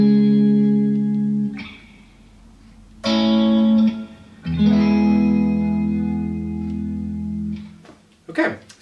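Three chords from a song played in sequence on an effects-laden electric guitar, each strummed chord ringing and fading before the next, close and loud, with a short noise at the end.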